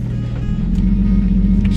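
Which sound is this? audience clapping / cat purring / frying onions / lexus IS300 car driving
lexus IS300 car driving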